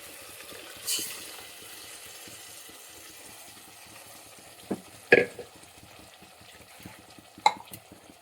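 Soft sizzling in a hot pan, with a few sharp clatters and splashes as Rajasthani dal is tipped into the tempering and stirred.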